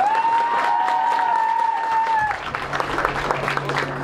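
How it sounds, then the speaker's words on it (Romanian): Audience clapping at a pageant show during a stand-up comedy set, a sustained round of applause with some crowd noise, while a tonal music or feedback line sounds in the first half before fading. "vreau un rând de aplauze!"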